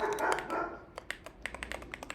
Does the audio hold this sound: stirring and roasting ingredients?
no